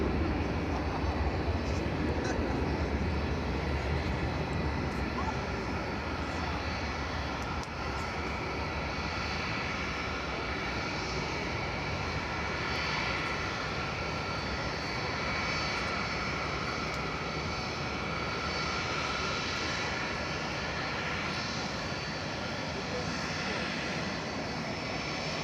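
A Boeing 787-9 Dreamliner in Yam Dreaming livery approaching DFW Airport at night, its jet engines making a long, steady roar with a faint whine, softly audible under faint talk.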